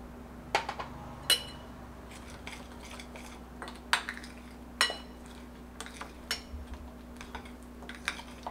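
Ground spices, Kashmiri chilli powder, black pepper and cumin, being mixed in a bowl give sharp clinks and light scrapes at irregular intervals over a low steady hum, with no talking.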